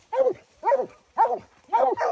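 Hunting dogs bark during a bear hunt in Maine, giving four loud, evenly spaced barks close by.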